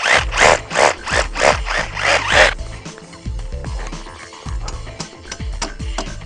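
Repeated brushing strokes clean a drilled hole in hollow masonry for a resin anchor, about seven quick scrubbing passes in a row, then softer scattered taps and scraping.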